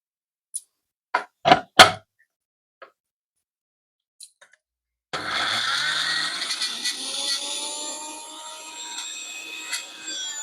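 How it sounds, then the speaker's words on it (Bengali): A mixer grinder grinds sesame seeds for homemade oil. A few sharp knocks and clatters come first, then the motor starts and runs loud and steady with a whining, gritty roar. "যেভাবে আমরা পিনাট বাটার তৈরি করি, ঠিক ওইভাবে কিন্তু মিক্সিটাকে চালাতে হবে।"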